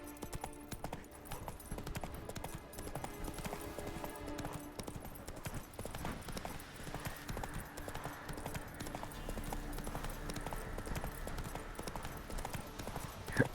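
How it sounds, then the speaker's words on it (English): A horse in the video game Witcher 3: Wild Hunt clip-clops along at a quick, regular pace, its hoofbeats steady and moderately near under low game ambience. "Heatherton'a ışınlanıp oradan at sürelim madem"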